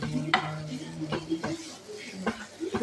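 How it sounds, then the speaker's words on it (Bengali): Lentils frying in ghee being stirred in a pan, with several scraping strokes of the spoon against the metal and a soft sizzle between them, close and moderately loud. "এবার ডালটা ভাজা হয়ে এসছে, মোটামুটি একটুখানি নেড়ে নিয়েছি"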